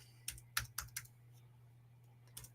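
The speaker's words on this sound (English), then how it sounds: "See if I can just type them in here." Someone types on a computer keyboard, a short burst of faint close key clicks followed by a pause and one more click, over a low steady hum.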